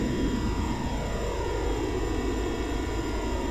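A Boeing 707 jet engine spooling in a flight simulator gives a steady, loud roar with a low rumble and faint high whine, continuous throughout without speech.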